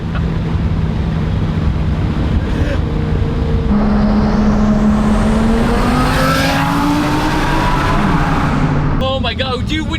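A 1350-horsepower Lamborghini Performante launches hard after brake boosting, engine pitch climbing steadily with a loud roar under wind, and a voice exclaims near the end.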